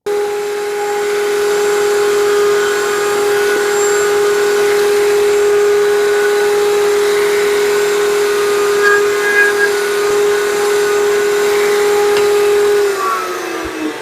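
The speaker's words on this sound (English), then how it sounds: "I had to change the router bit to do this because I had a different one on for a different project." A wood router with a round-over bit running through a scrap test piece, giving a loud, steady high whine close by that holds for about thirteen seconds before winding down, with no talking.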